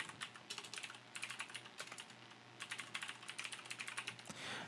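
Quick, uneven bursts of typing on a computer keyboard, clicking steadily with brief pauses between runs of keystrokes, close and fairly quiet with no talking.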